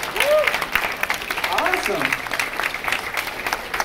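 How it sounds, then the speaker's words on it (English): A crowd at a cosplay contest applauds the costumed entrants, a short burst of clapping that holds for a few seconds under a loud, close voice speaking over it. "Let's give them a round of applause."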